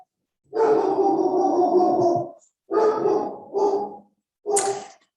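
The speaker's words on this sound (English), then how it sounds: "you might be hearing my dog in the back." A dog lets out a long drawn-out bark-howl, then several shorter vocal barks, close and loud with silence between.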